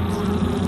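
Imported honeybees in Japan buzz in a dense, steady drone, loud and close, filling the whole brief moment with no voices.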